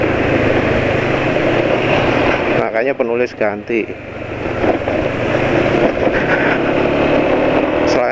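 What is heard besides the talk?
car engine idling and rattling with Mesran B40 oil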